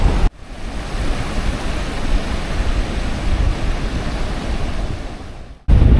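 Steady ocean surf washing onto an empty beach at Baguran Jalpai, a continuous broadband roar with gentle swells, cut off abruptly at both ends, no voices.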